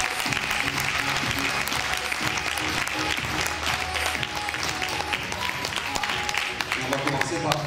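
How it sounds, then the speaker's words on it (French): A crowd applauds five contestants for queen of the festivities at a local election event, with steady clapping continuing under a talking voice and background music throughout. "vous pouvez elle aussi les applaudir très fortement"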